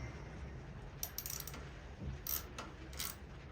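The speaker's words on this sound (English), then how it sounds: "5/16 socket. Probably really metric, but I don't know what so I'm going to just loosen this up." A socket wrench loosens a bolt on a lawn mower with a 5/16 socket, giving a few brief metallic ratcheting clicks in short bursts over a steady low background hum.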